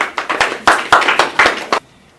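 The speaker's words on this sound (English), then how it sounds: "Let's give the guests an applause for being here." A small audience of guests gives a brief, sparse round of clapping, about eight or nine distinct hand claps bunched close together, then it stops abruptly into quiet.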